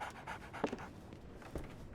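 Quick, breathy panting from a dog in Sherlock Holmes The Awakened, close and steady across a couple of seconds.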